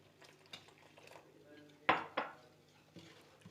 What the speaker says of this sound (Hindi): हैंड बीटर की मदद से आपने इसको अच्छी तरह मिक्स कर लेना है।